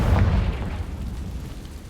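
A Confringo fire spell bursts in Hogwarts Legacy, a single loud, low boom at onset that rolls off into a rumbling tail, with no talk over it.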